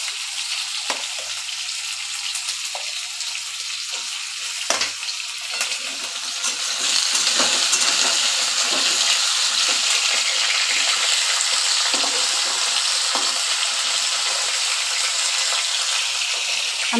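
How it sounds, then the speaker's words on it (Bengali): Snake gourd and potato pieces fry in hot oil in a wok, a steady loud sizzle with occasional stirring scrapes, intensifying midway as the vegetables go in, with no talk. "দিয়ে দিচ্ছি চিচিঙ্গে আলুটা, এগুলো একটু ভাজা ভাজা করব।"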